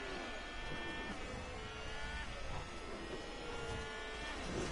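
A race car engine whines and drones in the F1 Manager 22 racing game, a steady fairly quiet high-pitched buzz with slight pitch shifts as cars pass.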